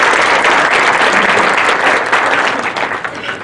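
An audience claps steadily after a humanities lecture at a court's public lecture series, dense applause from a full room that holds for several seconds and begins to thin toward the end.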